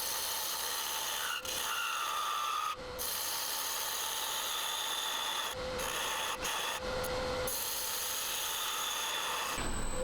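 Lathe tool cutting tenons on the ends of a wooden box blank, a continuous scraping rasp broken by several brief pauses and sharp tonal squeals, close and loud with no talking.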